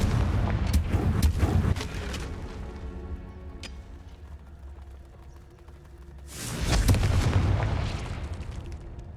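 Spell explosions from Confringo in Hogwarts Legacy burst in two loud bouts of booming, crackling blasts, with a quieter rumbling stretch between them and a sharp pop near the middle.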